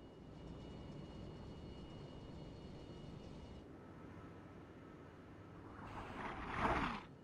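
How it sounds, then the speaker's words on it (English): A helicopter in the game Armored Brigade swells in from a distance over a steady low rumble, its rotor noise growing louder near the end before tapering off. "I hear a helicopter."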